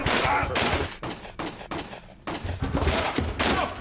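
A rapid volley of loud gunshots, several sharp bangs in quick succession with brief gaps, close and echoing, with no talking.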